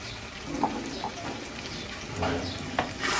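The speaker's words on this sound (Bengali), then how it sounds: "লবণ দিয়ে আবারও ভালোভাবে মিশিয়ে নিই।" Fish stirred in a pan with spices and salt, soft scraping and a low sizzle with a few sharper clinks of the spoon, close and steady, with faint talk underneath.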